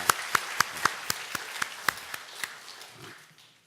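A church congregation applauding a visitor, a brief run of sharp, evenly spaced claps that thins out and fades away into quiet room tone.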